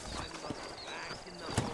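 Horses walking in the Red Dead Redemption video game, with soft hoof clip-clops at a steady pace beneath a voice talking throughout.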